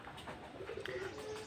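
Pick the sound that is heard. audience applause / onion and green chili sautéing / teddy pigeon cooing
teddy pigeon cooing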